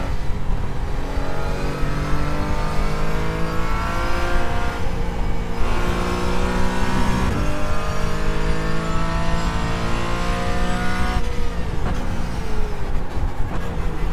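A race car with a wrecked, damaged engine drives a lap of Spa-Francorchamps in the iRacing sim, its engine droning steadily and loudly with rising and falling harmonics through gear changes, heard alone.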